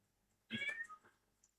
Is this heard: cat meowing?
yes